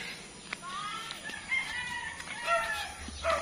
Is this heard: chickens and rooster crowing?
yes